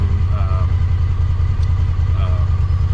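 Steady low engine drone from a running Honda Talon side-by-side, heard from inside the cabin, loud and constant beneath someone speaking.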